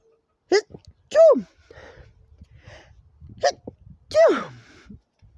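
Two loud, sharp sneezes close up, each followed by quieter breaths and small vocal sounds in the pauses.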